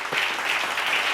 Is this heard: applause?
yes